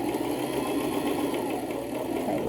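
A sewing machine stitches a double wedding ring quilt, giving a steady, close, continuous mechanical whirr with a fine rapid needle chatter that holds without a break throughout.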